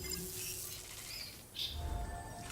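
Birds call in the Death Stranding 2 video game, faint squawks and chirps over a soft ambient hum, with one brighter call about midway.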